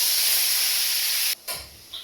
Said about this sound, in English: bit of oil in your pan, get your mince brown in